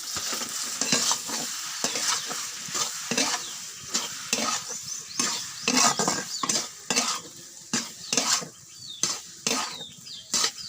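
Noodles fry in a pan while a spatula stirs them, giving repeated rhythmic scraping strokes over a steady close sizzle, with no talking.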